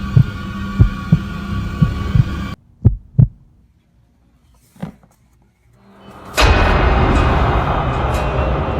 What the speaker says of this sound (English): The heartbeat in my chest was the only sound